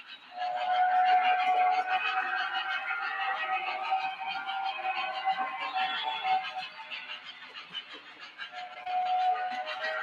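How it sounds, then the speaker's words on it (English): A shrill, sustained screaming whistle from a Western Maryland 734 model train sounds almost without a break, loud and close, dipping briefly midway before swelling again. "It's a screamer. Screaming whistle."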